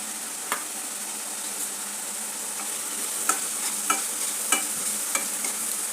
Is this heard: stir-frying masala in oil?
yes